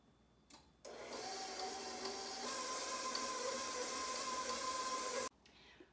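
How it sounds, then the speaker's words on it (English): A heavy-duty stand mixer kneads bread dough in a steady, loud motor whir that starts abruptly, rises slightly in pitch partway through, then cuts off, with no voices over it. "you knead it with the heavy-duty mixer for about 7 minutes until it's smooth and elastic"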